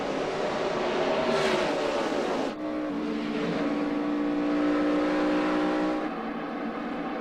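NASCAR stock cars accelerating in a pack on a race restart at the 2011 Samsung Mobile 500, a loud sustained engine roar that shifts pitch as cars pass close by, with no talk.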